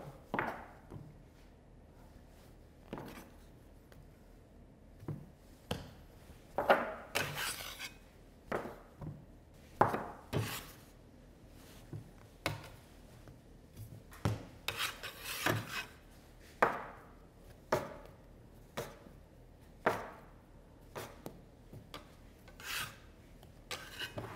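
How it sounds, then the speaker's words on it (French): Bread dough for a Vendée gâche is cut into 380-gram portions, giving a series of scraping and rasping knocks spread across the clip at an irregular rhythm, some sharper and louder, heard close and without voices. "Puis on va la couper en pâtons."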